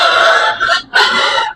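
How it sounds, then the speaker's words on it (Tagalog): Hens clucking loudly and close, two drawn-out squawking calls back to back. "Ang ingay ng mga inahin na to."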